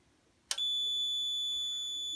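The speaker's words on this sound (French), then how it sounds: "on voit bien que les sirènes se sont mises en route" A Chubb four-zone alarm control panel triggers its sirens for immediate evacuation, starting with a sharp burst, then holding a steady, loud, continuous high-pitched electronic tone with no talk.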